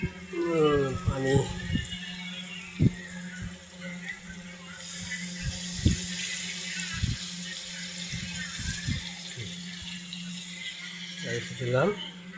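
A little water poured into a cooking pot of spiced curry, a rushing, splashing pour of several seconds in the middle, close by, while a person talks before and after.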